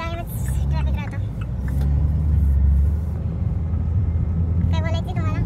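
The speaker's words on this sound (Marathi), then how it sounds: "इथे कायमच ट्रॅफिक राहतं." Road traffic in Upper Kharadi, Pune, with vehicles rumbling and accelerating close by, a swelling engine roar in the middle and occasional horns, under ongoing talk.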